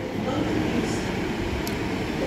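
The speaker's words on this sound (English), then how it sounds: "Local Northern train service departing from Stockport, Greater Manchester." A Northern Class 150 diesel unit pulling out of Stockport station in Greater Manchester, a steady rumbling drone of engine and rolling wheels, fairly close and unbroken.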